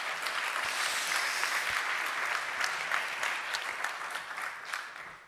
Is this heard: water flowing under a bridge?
no